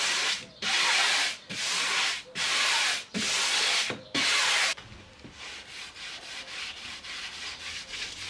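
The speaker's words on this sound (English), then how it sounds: "once dry I give it a final sand with 240 grit" An old wooden drawer being hand-sanded with 240 grit sandpaper: five loud, long rasping strokes with short pauses between, then a run of quicker, quieter back-and-forth rubs, close up.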